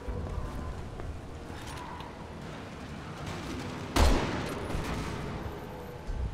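A sudden loud dynamite blast in the video game Resident Evil 6 booms out midway through a low ambient rumble, then decays into a lingering roar before another burst starts at the end.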